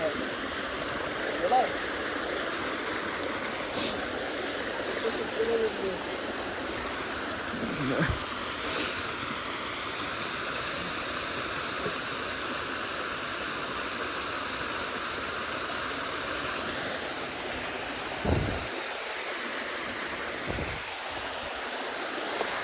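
A stream flowing at night during a crab-catching outing: a steady, close rushing of water that fills the whole stretch, with occasional faint thumps and splashy movement.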